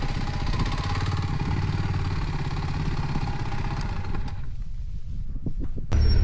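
A Kawasaki W230 motorcycle engine idles nearby with a fast, even single-cylinder thump and clatter, then cuts off near the end, leaving a quiet pause before a brief noise.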